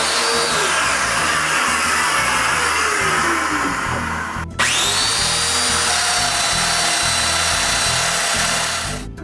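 A power drill bores mortise holes in wood strips for a nine-drawer dresser, a loud steady motor whine running throughout, with a brief dip around the midpoint as the bit pulls free and bites again.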